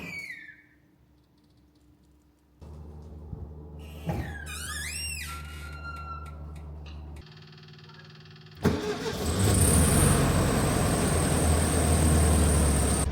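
A Volkswagen Oval Window Bug on a test drive, checked for rear shaking at highway speed: engine sound and road noise that shift with gear changes, and a loud, steady rush of driving noise in the second half.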